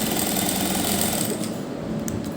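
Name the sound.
sewing machine stitching along the edges of fabric piping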